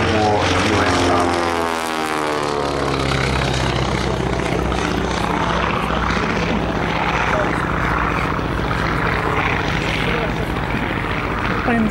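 Boeing P-26 Peashooter, a pre-war US Army fighter, making a low pass at an airshow: a loud radial engine roar with a falling Doppler sweep as it passes close, while a commentator talks over the sound.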